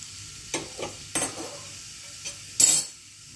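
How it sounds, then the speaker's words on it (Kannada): Mustard seeds, urad dal and turmeric crackle in hot coconut oil for a spice tempering, giving a few sharp sizzling bursts and pops with brief stirring between them, close and moderately loud. "ನೋಡಿ, ಚೆನ್ನಾಗಿ ಒಗ್ಗರಣೆ ಆಗ್ತಾ ಇದೆ."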